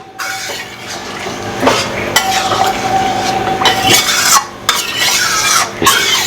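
Spoon stirring fish-head mung dal in a pan, repeated scraping strokes and metallic clinks over a steady sizzle, close and fairly loud, with no talking.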